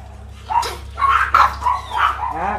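Small Chihuahua dogs bark and yip in quick high-pitched bursts nearby, several short barks in a row over a low steady hum.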